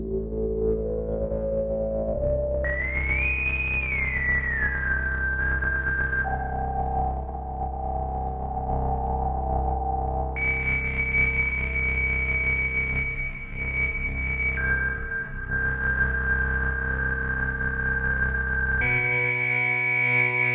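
A modular synthesizer drones with sustained, gliding sci-fi tones in an ambient jam, pitches stepping and sweeping over a deep steady bass layer, loud and continuous.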